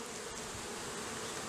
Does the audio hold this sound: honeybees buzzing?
yes